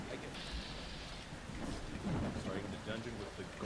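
Stormy blood-rain weather in Fallout London, a steady rain hiss with a low rumble of thunder swelling near the middle, continuous and moderately loud.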